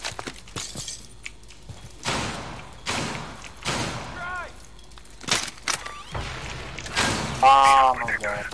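Gunfire and impacts in a Rainbow Six Siege match: a run of sharp thumping shots and breaking, shattering hits, some spaced and some in quick bursts, under excited talking voices.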